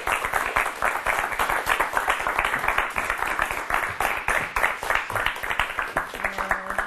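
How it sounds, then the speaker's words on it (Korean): An audience at a Korean leadership lecture welcomes a guest speaker with steady, rhythmic clapping, moderately loud and continuous, with a voice beginning to speak near the end. "박수로 맞아주시기 바랍니다."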